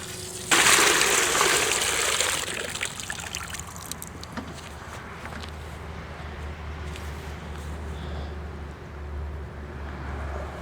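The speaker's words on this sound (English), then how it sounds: "just fill up your bucket there" Water from a bucket pours onto mashed weeds for homemade fertilizer, a loud gushing splash at first that settles into a steady trickle and dribble, close by and continuing alone without voices.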